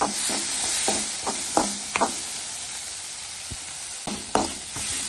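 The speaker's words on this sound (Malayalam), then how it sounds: "ഇനി നമ്മൾ ഇതിലോട്ടേക്ക് അടിച്ചു വെച്ച തക്കാളിയാണ് ചേർക്കാൻ പോകുന്നത്. ഇനി ഇതൊന്ന് ഇളക്കി കൊടുക്കണം." Chopped tomatoes sizzle in a hot pan for rasam, a steady hiss broken by several sharp spoon knocks and scrapes as they are stirred, close and fairly loud with no talk.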